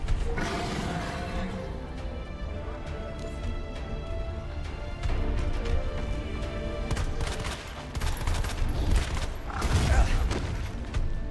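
Shotgun blasts in Resident Evil 2 Remake, loud repeated firing amid mechanical clacks and game noise, with some voice faintly beneath the bursts.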